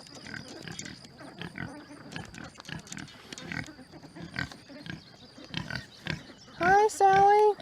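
Repeated short grunts and snuffles from a pig close by, followed by a person speaking near the end.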